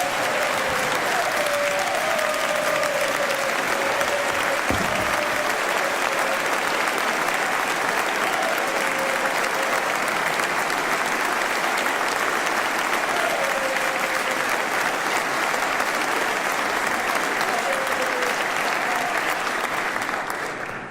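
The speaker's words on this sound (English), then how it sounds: "Somebody had to get more applause than Max." Sustained audience applause filling a large hall during a state governor's address, dense and even from start to finish, with faint voices drifting over it and no speech.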